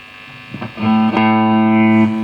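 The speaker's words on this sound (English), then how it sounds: "Okay, distortion plus. Let's try that on a lower gain setting." An electric guitar plays through the Distortion Plus effect of a Zoom G1 FOUR multi-effects pedal at a low gain setting, with a few picked notes and then a sustained, gritty chord ringing loud and close, with no talk.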